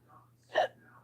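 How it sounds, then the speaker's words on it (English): A single short hiccup from a person, a brief sharp vocal catch standing out clearly against a quiet background with a faint steady hum. "Oh, excuse me, I got hiccups."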